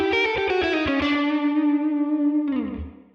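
Distorted electric guitar plays a quick lick on the half-whole diminished scale. A fast run of picked notes ends on a long sustained bend with effects, then a short slide down at the end.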